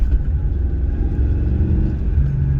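V8 BMW E23 car driving, its engine a steady close low rumble that holds throughout with a slight rise under throttle.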